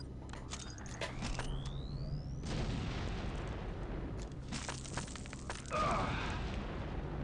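A self-inflicted explosion in the Star Wars Republic Commando video game: loud blasts and booming rumble with crackling debris, a rising whine, then a second burst of explosive noise near the end.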